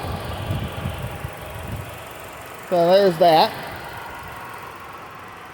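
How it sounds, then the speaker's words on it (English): Steady, low, fairly quiet idle of a 2018 Hyundai Elantra's dual overhead cam 16-valve four-cylinder engine, heard throughout beneath a brief spoken remark. "This is a dual overhead cam 16 valve 4-cylinder engine underneath the hood of this car."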